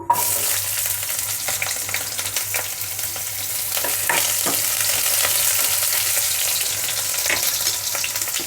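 Thinly sliced onions fry in a hot pan for a Telugu vegetable stir-fry with peanut powder, a steady dense sizzle with occasional crackles and soft stirring scrapes, close and continuous throughout.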